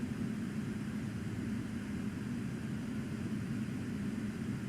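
A Boeing 777 jet engine runs steadily just after its start, a constant broadband roar with a heavy low-end rumble and no change in pitch, heard alone without any talk.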